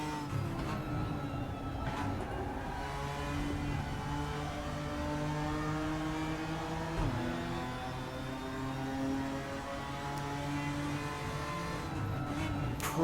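A GTR4 race car at Bathurst in the racing game RaceRoom, its engine droning steadily with rising and falling pitch as the driver eases off and gets back on the throttle, continuous and without speech.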